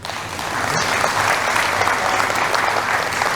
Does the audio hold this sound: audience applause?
yes